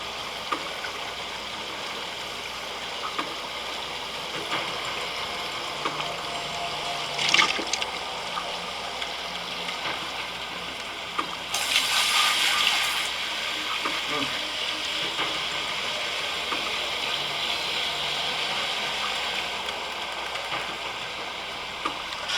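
Water poured in the Gold Mining Simulator video game, a steady broadband wash and splash that runs through the whole stretch with a brief louder surge near the middle, set among other game noise.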